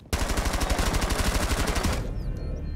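A sustained burst of rapid automatic gunfire in Rainbow Six Siege, roughly twenty close, loud shots in quick even rhythm for about two seconds, then a sudden stop leaving a quieter game ambience.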